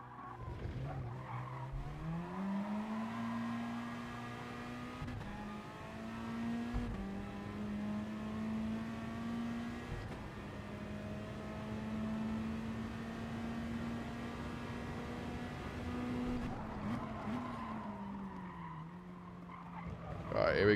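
A race car engine in the GT Sport racing game on the Austrian GP circuit holds a loud, steady drone, its pitch rising and dipping through gear shifts and braking, with a brief tire squeal near the end.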